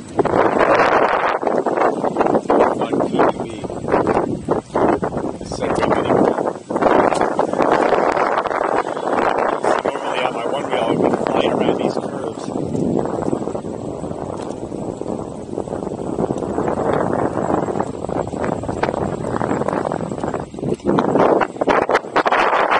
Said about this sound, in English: Very windy day, excuse the difference.